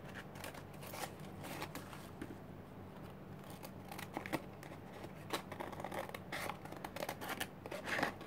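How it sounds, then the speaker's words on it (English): Scissors trim the excess from handmade paper in quiet, repeated snips and rustling crinkles, faint and close, with no talk. "now I'm just going to trim the excess."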